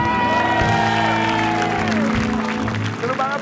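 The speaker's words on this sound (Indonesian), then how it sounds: "Sandi Sandoro, tepuk tangan." Studio audience applauding on a morning TV show, steady clapping that runs the whole time, with talk and music over it.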